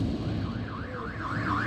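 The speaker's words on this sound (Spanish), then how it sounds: "Las alarmas de la policía se activaron para evitar daños y afectaciones en viviendas y calles del sector." Police alarms wail during street riots in a neighbourhood, a rising and falling electronic siren tone sweeping steadily over a constant backdrop of low street noise and rumble.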